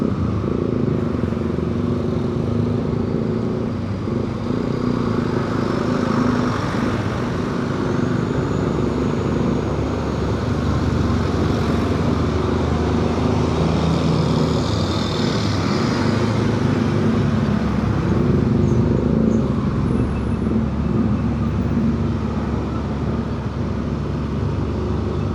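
Jammed traffic on the Pantura road near Karawang, a continuous dense rumble of idling and creeping engines with motorcycles and cars, steady and close, no speech.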